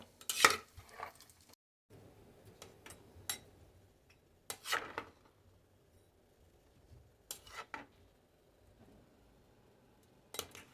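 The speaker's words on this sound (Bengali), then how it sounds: "ভালো করে মাংসটাকে মিশিয়ে দেব।" Chicken meat is stirred with water in a pot, a soft, quiet swishing broken by a few sharp clinks of the spoon against the pot's side.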